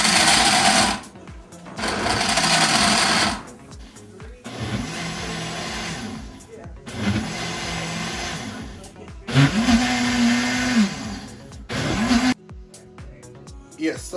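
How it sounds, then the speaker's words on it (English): A kitchen blender blends coconut in several loud whirring bursts separated by short pauses, its motor pitch rising and falling between runs, while a voice talks in the background. "we're just going to start the blending now"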